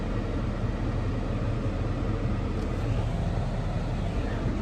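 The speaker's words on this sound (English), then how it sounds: "I have to have the defrost on at the absolute highest setting." A car defroster blows on its highest setting, a steady, even rush of air that stays constant and fairly quiet throughout with no other sounds standing out.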